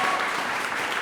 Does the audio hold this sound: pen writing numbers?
no